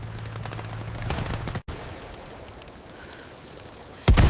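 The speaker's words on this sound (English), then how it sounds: "We are under heavy fire." Heavy machine gun fire in a battle in Normandy comes as rapid, rattling bursts over the first second and a half. Quieter background noise follows, then a sudden loud blast near the end, with no voices.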